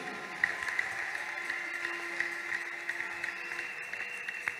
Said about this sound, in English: People of God, jam your hands together for Jesus.